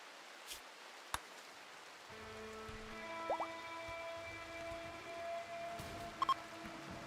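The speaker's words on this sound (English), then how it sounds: "Yes, this is Blood Rain." Blood Rain in the video game RimWorld makes a faint, steady hiss of falling rain, with soft synth music and a few scattered clicks over it.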